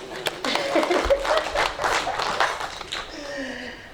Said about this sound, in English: Can we clap hands for ourselves?